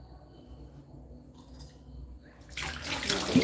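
Water runs to wash the vessels used for chopped tapioca. After a quiet stretch a tap gushes loudly and close, rushing continuously to the end.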